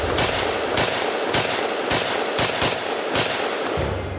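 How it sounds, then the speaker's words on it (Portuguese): Rapid assault rifle fire strikes a bulletproof vest: a loud, close series of about eight sharp shots in quick, slightly uneven succession. "A saraivada de tiros sucessivos e rápidos levou o colete ao ponto de ruptura."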